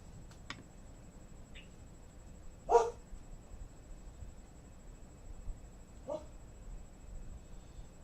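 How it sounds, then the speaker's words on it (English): A dog gives a few short, soft barks or arfs, spaced apart and fairly faint, over quiet room background, with a couple of small ticks between them. "It's like little growl bark. Just arf, arf."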